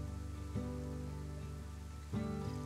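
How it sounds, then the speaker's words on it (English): Steady rain pours down in the survival video game DayZ, a continuous hiss with a few soft surges, beneath tonal background game audio. "rain began stomping down"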